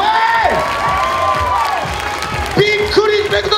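An audience at the 2014 Xperia Presents Japan Final dance competition cheers and applauds a dance team of older performers, a loud, sustained burst of crowd noise with shouting voices and whoops rising over the clapping.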